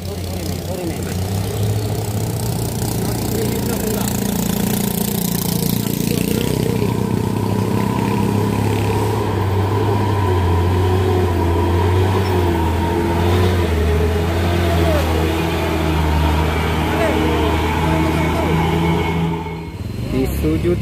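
A Fuso truck's diesel engine labors loudly and steadily as it climbs a steep rocky hill road, a continuous low drone with strained revving throughout, and voices talking nearby.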